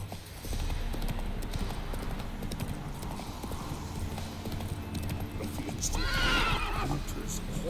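In a video game, a horse's hooves clip-clop steadily and loudly throughout, with a whinny late in the run while a person talks over the action.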